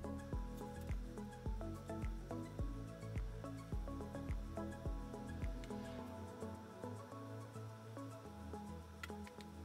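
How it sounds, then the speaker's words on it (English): Engine oil drips from the drain of a Honda CRF150R dirt bike, giving a steady run of faint, soft ticks and plops repeating quickly in a quiet space. "it just starts dripping every couple seconds"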